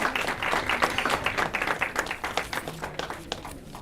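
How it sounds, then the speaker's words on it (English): A crowd at a dental college implantology workshop applauds, with dense, uneven clapping at moderate volume that thins out toward the end. "A big round of applause for Dr."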